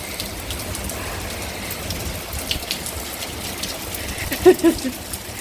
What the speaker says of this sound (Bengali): বেশ ভালোই বৃষ্টি হচ্ছে